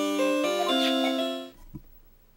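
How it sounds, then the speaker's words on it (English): A phone ringtone plays a bright, tonal melody loudly for about a second and a half, then cuts off, followed by a faint click. "What kind of ringtone is that?"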